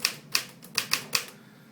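A Smith-Corona typewriter types with sharp, crisp key strikes, five or six distinct clacks at an uneven rhythm, close and clear with no talk.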